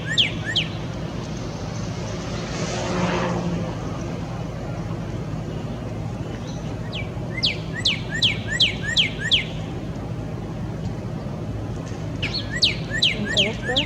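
Repeated bright, rapid whistled northern cardinal song phrases in two bursts, each a quick series of descending notes, over a steady low background rumble of traffic.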